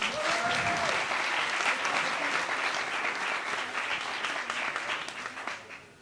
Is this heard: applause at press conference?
yes